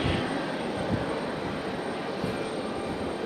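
Breeze Airways airliner at Raleigh-Durham airport, a steady broad jet-engine roar holding at even loudness throughout, with no voices.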